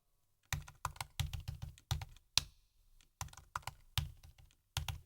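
Password being typed on a computer keyboard: close, crisp keystrokes in quick bursts separated by short pauses, with no voices.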